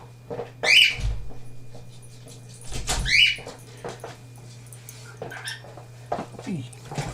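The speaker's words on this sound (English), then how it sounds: "That's the little puppy." A little puppy whimpers and squeals in short high-pitched bursts, two louder cries followed by fainter whines, close by over a steady low hum.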